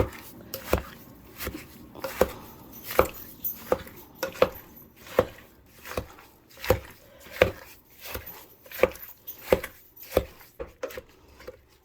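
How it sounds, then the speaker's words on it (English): A meat chopper chops strawberries steadily on a board, about sixteen sharp, evenly spaced thuds with a few faint clinks, no talking. "I'm just going to go through here, just chopping it up"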